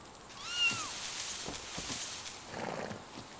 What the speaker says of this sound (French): il y a un petit chat